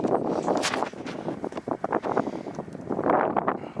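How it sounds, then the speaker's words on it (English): Steady gusty wind blowing off a lake roars across an open microphone, with broadband rushing noise that swells and eases throughout. "It's kind of windy off the lake."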